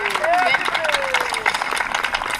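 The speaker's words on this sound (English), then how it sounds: "everybody welcome me with a big round of applause" A crowd at an outdoor charity 5k run claps in a scattered patter, mixed with whoops, cheers and nearby voices, all fairly loud and close.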